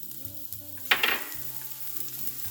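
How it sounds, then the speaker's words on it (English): Chopped onions dropped into hot olive oil in a skillet, giving one sharp burst of sizzling that settles into a quieter crackle, with a brief stirring scrape and no voices. "we are going to saute these until they are nice and translucent"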